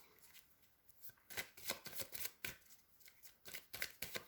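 Playing cards are shuffled and handled close up in a quiet room, giving soft riffling bursts and dry slides that come in irregular clusters, with no talk.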